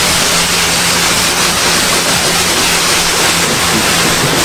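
A jet washer spraying a car at a coin-operated car wash, a loud, constant hissing rush of water that holds steady throughout without pauses or voices.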